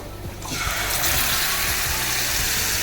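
Water from a rinsed mixer jar is poured into a hot pan holding a spoonful of coconut oil, while cooking veg fried rice: a steady, loud pouring and splashing rush that starts after a brief quiet moment and continues to the end.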